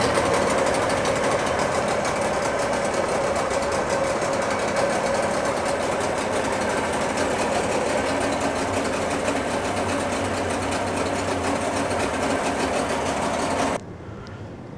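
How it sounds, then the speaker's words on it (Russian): A Suzuki DT40 outboard boat motor with a carburetor fault runs nearby at a steady, loud, buzzing roar with a fast mechanical chatter, then cuts off abruptly at the end. "Для начала попробуем как-то стабилизировать работу мотора."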